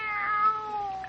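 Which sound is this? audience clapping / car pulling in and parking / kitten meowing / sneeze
kitten meowing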